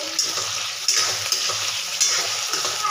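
Potatoes, skins left on, frying in a pan for sabudana khichdi, stirred with a spoon: a steady close sizzle with light scraping stirs and occasional sharp clinks of the utensil against the pan.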